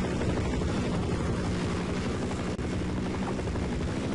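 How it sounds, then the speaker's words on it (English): A helicopter in the video game Half-Life thrums continuously and loudly, a steady chopping rotor drone filling the whole stretch with no speech over it. "Hide from the helicopter thing,"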